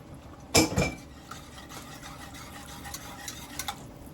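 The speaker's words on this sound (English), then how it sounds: "we're gonna stir this here till this here get kind of a little thick here" A spoon stirs a thick cheese sauce seasoned with cayenne pepper in a pot for roasted garlic white mac and cheese, with a couple of loud scraping knocks early on, then soft, steady stirring and light clinks of utensil against metal.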